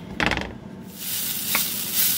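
Loud sizzling as sausage hits a frying pan on medium-high heat, with a few scraping stirs breaking it up, then a continuous crackling fry up close.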